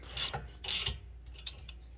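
Brake caliper bolts come off an Alfa Romeo during a brake and rotor service, two quick ratcheting wrench strokes up close followed by a few fainter clicks and rubs.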